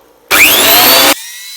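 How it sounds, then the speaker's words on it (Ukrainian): A Metabo thickness planer fitted with TEMU knives bursts to life planing pine, a loud high-pitched cutting whine lasting under a second before the machine hums on quietly. "Зараз вмикаю, показую одною рукою, як вони ріжуть."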